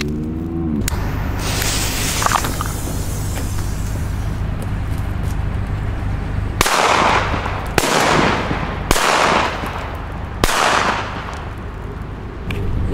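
Five New Year's Eve firecrackers go off one after another at roughly one-second gaps, each a loud, close bang, over a constant background rumble of distant celebration noise.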